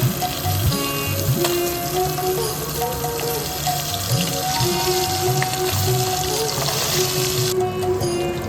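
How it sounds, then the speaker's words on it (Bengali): Pieces of bata fish fry in a pan with a continuous, loud, hissing sizzle that stays steady from start to finish. No voices are present. "উল্টো দিকটাও সমানভাবে লাল লাল করে ভেজে নিচ্ছি"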